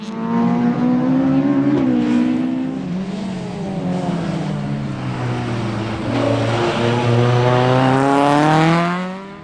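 A Group 4 Fabrications Mark II Ford Escort rally car runs hard on a winter stage at Pallas Karting, Tynagh, its engine loud and close, climbing and dropping through revs with gear changes and a sustained high-rev pull near the end.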